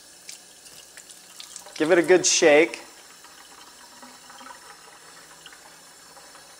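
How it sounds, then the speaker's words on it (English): A water filter cartridge is rinsed under a running tap, a loud burst of splashing, gurgling flow lasting about a second near the middle, with a voice speaking over it and quiet room tone on either side. "to clean the filter, we simply run it under water from both ends"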